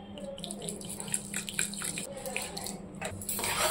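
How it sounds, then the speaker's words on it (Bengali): A small amount of water is poured into sugar in a pan to make syrup for crisp flour-and-sugar pitha, a short, close splashing trickle with faint kitchen clatter. "সামান্য একটু জল দিয়ে দেবো"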